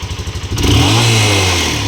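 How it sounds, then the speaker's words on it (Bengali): A Karizma motorcycle's engine starts: a short cranking clatter, then the engine catches and settles into a loud, steady idle close by, with no talking. "করিজমা, ঠিক আছে, সব চালু ইঞ্জিন। এই যে মাত্র করবে, দিবে স্টার্ট"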